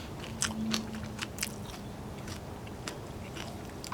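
Close, crisp chewing of crunchy cooked sweet potato leaf stems dressed with miso, a few sharp bites followed by steady wet mastication, with no talking.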